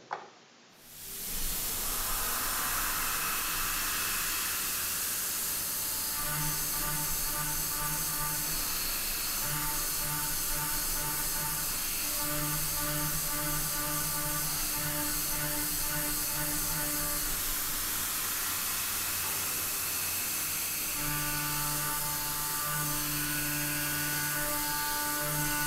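CNC machine pocket milling with a CoroMill Plura solid carbide end mill (4x diameter), steady loud machining whine with layered tonal harmonics running continuously, starting abruptly after a brief silence.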